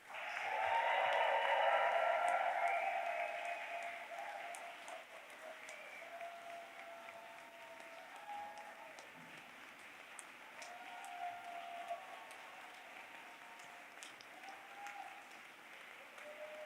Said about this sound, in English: Please give another round of applause for our graduates.